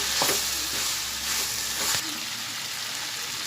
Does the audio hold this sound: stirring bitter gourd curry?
yes